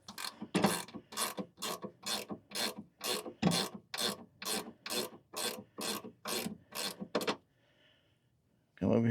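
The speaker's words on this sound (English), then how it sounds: "we're just snugging up the back, the rear mount" A ratchet wrench snugs up the rear mount bolts of a truck's Boost Auto Luma running board, a steady run of about fifteen close, loud clicking strokes, then a brief pause.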